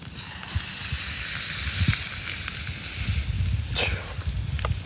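Steak laid down to cook at a campout, giving a broad, steady hiss of searing with a few soft clicks and knocks over it, close and fairly loud, with no talking.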